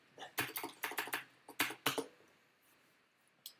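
Rapid bursts of typing on a QPad MK80 mechanical keyboard with clicky Cherry MX Blue switches, crisp and close, in uneven clusters of keystrokes that trail off into quiet with one last tap.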